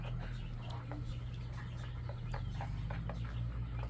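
Chicks peeping on a family farm near the barn: short, faint high chirps scattered through the clip over a constant low droning hum.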